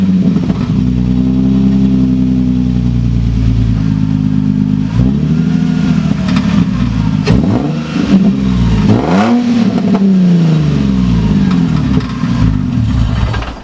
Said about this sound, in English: I'm going to go ahead and start with the car to show you how loud it is